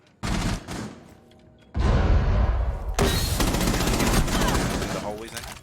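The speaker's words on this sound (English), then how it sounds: "Frag grenade out." A frag grenade explodes in Rainbow Six Siege with a heavy, close burst, immediately engulfed by sustained loud gunfire and rattling impacts that continue to the end.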